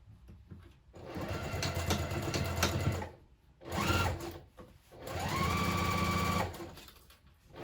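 A sewing machine stitches a narrow seam on a zippered tote bag in three bursts, each whirring run starting and stopping with short pauses between.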